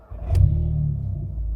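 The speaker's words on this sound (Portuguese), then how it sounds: "Então, vou mostrar aqui a partida para vocês" A Volkswagen Golf GTI 2.0 turbo MK7 engine cranks and catches, settling into a deep, throaty idle rumble from a loud aftermarket exhaust, close by.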